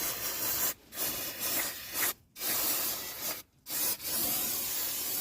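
Aerosol hiss of TEMOL T BRK CLEAN brake cleaner sprayed onto brake parts while pads are being changed, steady close bursts broken by several short pauses, with no talking.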